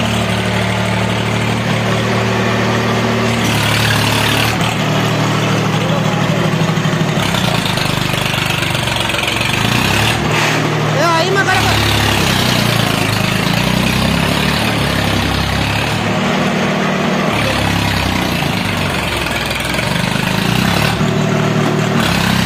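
A Swaraj 735 tractor engine runs loud and close, revving up and down in repeated surges while reversing a dumper loaded with soil on a rough track.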